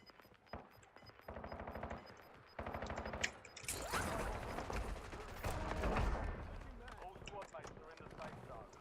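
Warzone gunfire crackles in rapid automatic bursts and single shots amid busy game noise, with voices talking over much of it.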